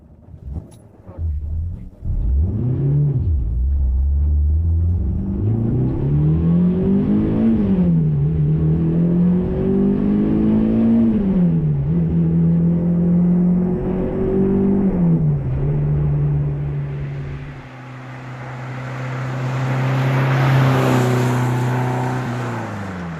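A Renault 8 Gordini's small engine revs hard while driving, climbing through the gears in repeated rising whines that drop at each shift, loud and close, then settling into a steadier drone with road noise late on.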